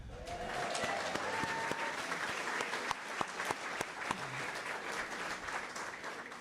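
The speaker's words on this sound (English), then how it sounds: "How about a round of applause for Tony?" Applause at a Fairport community celebration fills the room as a sustained crowd wash, with a few sharp, louder claps standing out and a brief whistle-like tone early on.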